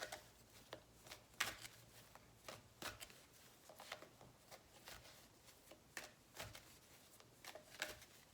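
Oracle cards being shuffled by hand, a quiet run of crisp riffling snaps and soft slaps repeating at irregular intervals, close and alone with no talking.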